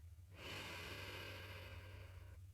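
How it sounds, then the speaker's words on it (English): A single slow, deep breath drawn in and let out over about two seconds, soft and close with no talking, in a calm English lesson setting. "just take one deep breath with me"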